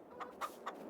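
Three short, evenly spaced clucks from chickens in a farm simulator game, soft and fairly close against a quiet background.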